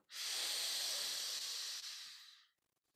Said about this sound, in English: Lost track of the breathing. Breathe in again.